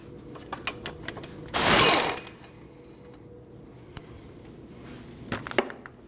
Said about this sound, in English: Now you need to remove your caliper bracket. That's held on by these 2 19mm bolts.